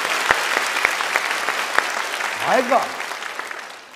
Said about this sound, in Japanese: 訪問イタコに拍手、すごい